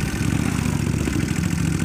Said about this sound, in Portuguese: Eu tô aqui andando na moto